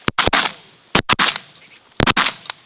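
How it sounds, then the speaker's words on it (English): Shotguns fire during a duck hunt in Canada. Three quick clusters of sharp, close shots are spaced about a second apart, with a short echo trailing each one. "Nice shooting, boys."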